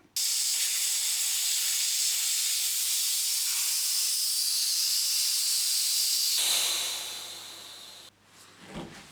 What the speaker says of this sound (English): you can then open this valve, which will then drain the tank.